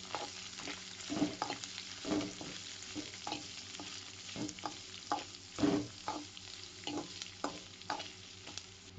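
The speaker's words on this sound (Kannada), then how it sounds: "ಈ ಥರ ಎಲ್ಲವನ್ನು ಹಾಕಿ ಸ್ವಲ್ಪ ಚೆನ್ನಾಗಿ ಮಿಕ್ಸ್ ಮಾಡಿಕೊಳ್ಳಬೇಕಾಗುತ್ತೆ." Vegetables including carrot stirred in a pan while making vermicelli bath (shavige bath), with a steady sizzle under repeated scraping strokes of the spoon at an uneven rhythm, close and moderately loud.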